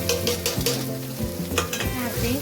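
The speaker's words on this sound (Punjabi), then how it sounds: "ਮਸਾਲਿਆਂ ਨੂੰ ਚੰਗੀ ਤਰ੍ਹਾਂ ਭੁੰਨਾਂਗੇ ਜੀ" Spices for soy chunks are stirred and roasted in a hot pan, giving a close, steady sizzle broken by repeated scraping strokes of the stirring spoon.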